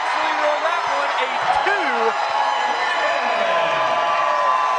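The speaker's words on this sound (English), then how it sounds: "the home crowd goes wild for the 100-piece" Home crowd at a Tennessee women's basketball game roaring and whooping in a sustained loud cheer, with a play-by-play commentator talking over it.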